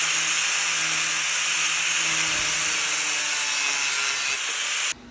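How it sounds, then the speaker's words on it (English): A strip of steel is cut to length with a power tool, making a loud, steady, harsh grinding rasp that holds for about five seconds before cutting off abruptly. "Going to start by taking the strip of steel and cutting it to your desired length"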